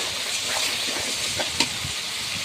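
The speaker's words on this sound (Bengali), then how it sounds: "মশলাটা আমি ভালো মতো কষিয়ে নিচ্ছি।" Roast spice paste is fried and stirred in a pan for a Bengali-style roast, with a loud, dense, continuous sizzle close up and a few soft stirring scrapes and brief pops.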